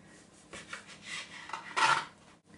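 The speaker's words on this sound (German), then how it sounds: "Vom Toastbrot schneide ich jetzt die Rinde ab." A knife saws through the crust of toast bread in a home kitchen, giving soft, close rasping strokes that build to a louder scrape near the end, with no talking.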